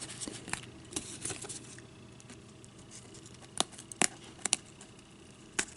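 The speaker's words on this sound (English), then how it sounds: "I just stick my scissors in here and I just kind of clip it away" Sparse, quiet snips and crisp clicks, a few sharp cuts bunched near the end, with soft rustling of paper between them and no talk.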